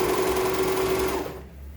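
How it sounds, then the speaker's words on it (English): Serger overlocking an elastic waistband channel, running at high speed in a loud, steady whir that winds down and stops near the end. "And the serger goes 10 times faster than the regular machine"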